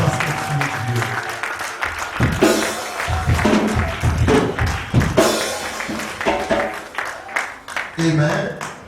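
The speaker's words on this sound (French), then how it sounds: "we clap our hands for you" Congregation clapping hands during a worship service in a church, bursts of group applause mixed with singing and voices throughout, fairly loud and close.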